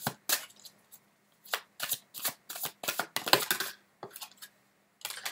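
Tarot cards shuffled by hand in bursts of crisp riffling and slapping, close and fairly loud, with brief pauses between handfuls and no talking.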